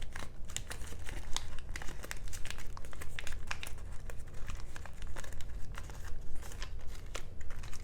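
Sheet of origami paper being folded into a frog model, close continuous crinkling and rustling with frequent sharp creasing crackles, no speech.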